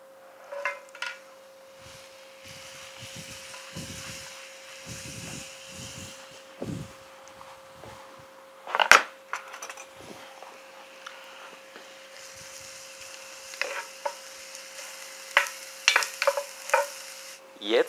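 Onions, garlic, ginger, cinnamon, curry leaves and cardamom fry in a Dutch oven, with soft sizzling, scattered stirring scrapes, a sharp metal clank midway and a steady hum underneath.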